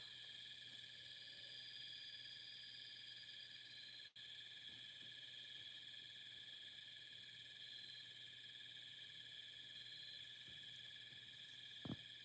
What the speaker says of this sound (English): Listening to the crickets and the owls.